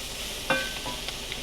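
Sesame ginger chicken sizzles steadily in a hot pan, with one brief scrape and clatter as it is stirred partway through. No one speaks.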